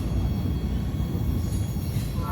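A freight train rolls past close by with a loud, continuous rumble of rail cars on the tracks, a dense and steady roar with little variation over its short span.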